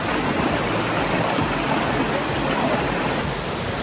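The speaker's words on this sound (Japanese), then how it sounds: "多分声張らないと川の音にかき消されます。" A river and waterfall rush loudly at a camping spot: a steady, dense roar of water that continues unbroken throughout, close by.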